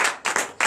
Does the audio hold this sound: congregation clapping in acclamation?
yes